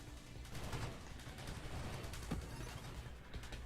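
Rapid shotgun fire in the space shooter game Nova Drift, a dense, quiet burst of repeated shots rattling on without pause, with no voices over it.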